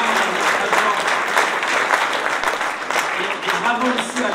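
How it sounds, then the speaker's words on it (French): An audience at a New Year's wishes ceremony bursts into sustained, loud applause, dense clapping from many hands with a voice faintly heard over it. "Alors bravo à Robert Delataille, on peut l'applaudir"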